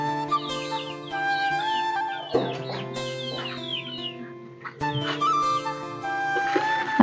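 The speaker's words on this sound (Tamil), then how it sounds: "அங்கால பெரிய கோழிகள் போட்டிருக்கி." Large hens cluck and chatter close by in a rural yard, repeated short calls rising and falling with a few sharper squawks, no one talking.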